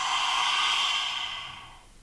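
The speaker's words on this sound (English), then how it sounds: "take a breath in, exhale, tongue out" A single long, forceful breath pushed out through the mouth with the tongue out, a lion's breath exhalation in a yoga practice, close and breathy, fading away at the end.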